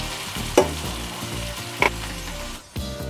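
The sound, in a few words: prawns frying in oil with spices, stirred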